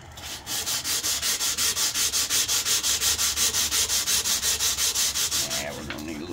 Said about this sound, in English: get the sandpaper out and get it working on her